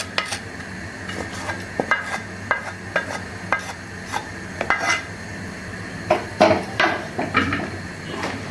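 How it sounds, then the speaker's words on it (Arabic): Onion mixture being stirred in a pot, with repeated scraping and clinking of a utensil against metal in an irregular rhythm, close and fairly loud. "كده نقلب دول اما تبدا تتماسك"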